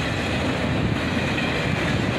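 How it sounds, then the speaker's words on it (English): An autorack freight train headed by a single ET44AH locomotive rolls past at close range, a loud, steady roar of wheels and cars with faint clickety-clack throughout. "Just a single ET44AH on the head of this Autorack train."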